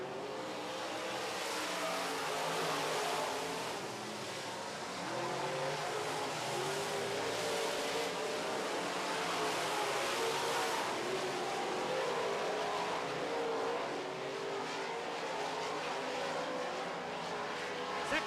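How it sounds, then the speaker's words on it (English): Modified stock cars race past on an oval track during a heat, a continuous loud engine roar with revving swells that stays steady throughout. "Excellent action for 3rd and 4th as well as Boyce rides on by"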